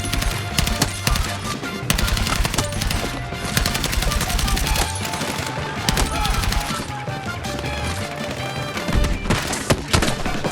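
Rapid automatic gunfire from the video game Battlefield 6 rattles in dense, loud bursts throughout, with scattered shots and impacts layered over a busy in-game soundscape.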